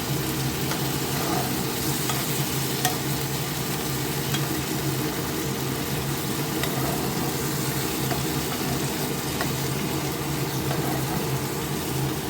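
Dal frying with turmeric in a pan gives a steady, loud sizzle that continues without break, with faint stirring scrapes and no talk.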